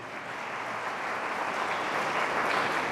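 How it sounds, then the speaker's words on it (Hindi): A church congregation breaks into loud, sustained applause during a sermon, a dense wash of clapping that swells slightly and holds steady throughout, with no voices over it. "आइए खुदा के जलाल के लिए जोरदार तालियां बजाएं।"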